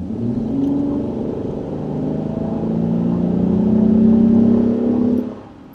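A 2009 Honda Ridgeline pickup truck accelerates from about 20 mph, its engine note rising steadily and growing louder over several seconds before dropping off abruptly, heard from inside the cab with no talking.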